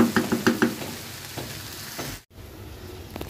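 Bitter gourd fries in mustard oil with a soft steady sizzle, a few quick utensil taps at the start and a brief cut-out midway.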